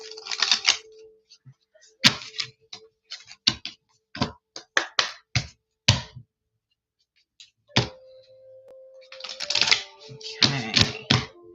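Crisp clicks and rapid riffling bursts of cards being shuffled, close up, in irregular clusters with a brief pause midway before another flurry.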